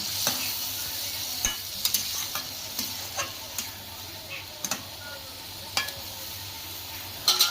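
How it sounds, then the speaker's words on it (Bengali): Fish curry of aar fish being stirred in a pan after a little water is added, giving a faint steady sizzle with scattered soft spoon taps and scrapes against the pan, no voices. "এবার আমরা বাটি ধোয়া জল একটু এর মধ্যে দিয়ে দেবো। একটু নাড়িয়ে দিলাম।"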